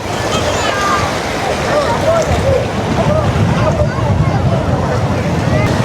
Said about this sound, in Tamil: பாருங்கள் அலைகள் கொஞ்சம் அதிகமாகவே அடிக்குது